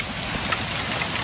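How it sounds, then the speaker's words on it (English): Hail pelts down in Florida as a dense, steady hiss of large hailstones hitting surfaces nearby, continuous and fairly loud with no voices. "Oh, look, it's hailing."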